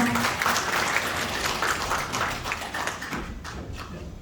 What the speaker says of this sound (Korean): 뜻깊은 말씀에 다시 한번 큰 박수 부탁드립니다